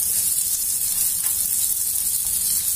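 Mini batbouts dough cooking gently in oil in a pan, giving a steady, even bright sizzle that stays close and continuous throughout.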